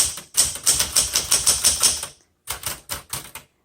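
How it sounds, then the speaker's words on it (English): Rapid keystrokes on a 1977 Smith Corona Classic 12 manual typewriter, a quick run of sharp clacks for about two seconds, a short pause, then a few more strikes, close and loud with no talk. "So let's say you're typing away."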